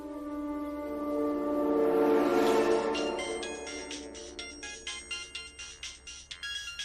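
A phone ringtone plays alone, a swelling melodic tone that changes into a rapid pulsing ring repeating steadily for several seconds.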